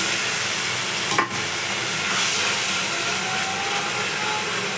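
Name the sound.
sautéing katla fish curry with mustard and chili paste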